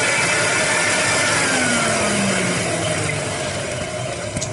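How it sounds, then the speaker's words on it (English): Rainbow E2 Black Type 12 vacuum cleaner from 2019 with its two-speed brushless motor running, a loud steady whine and airflow roar with gently drifting pitch and no talking. "So, this is one of the newer rainbows. It's got a two-speed brushless motor."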